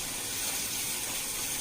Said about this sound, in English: I love this sizzle. I love this crackle. Make sure the oil is extremely hot.